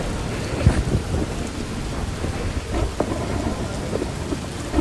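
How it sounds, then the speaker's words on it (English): Heavy rain pouring outside with low rumbles in it, a dense steady hiss of drops striking surfaces close by, with no voices. "it's raining"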